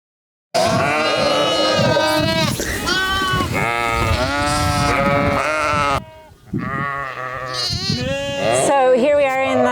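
Sheep ewes separated from their lambs bleat loudly and constantly, several overlapping wavering cries close by in a flock, with a brief break partway through before the bleating resumes.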